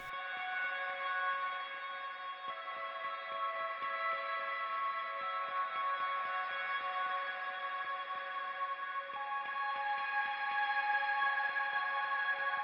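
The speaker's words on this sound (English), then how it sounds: "So we've got this super reverbed electric part." A super-reverbed electric guitar part, a sustained shimmering wash of layered high tones that hangs steadily without clear attacks, quiet and alone throughout.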